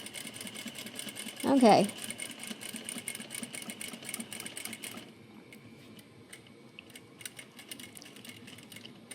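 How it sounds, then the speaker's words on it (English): Sewing machine runs a diagonal corner-to-corner seam across fabric for a zipper pouch, humming steadily for several seconds before dropping to a quieter whir. A voice speaks briefly. "So I'm just gonna basically stitch from corner to corner here."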